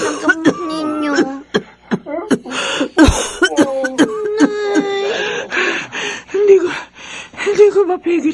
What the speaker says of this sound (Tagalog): Hindi ko mapigil ang pag-ubo ko, anak.